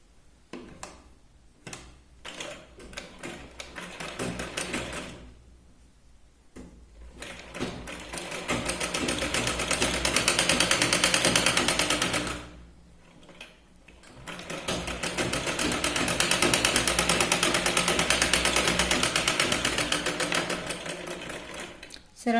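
Sewing machine running in long steady bursts while stitching the side seam of a katori blouse, with short pauses between runs and a brief quiet gap midway.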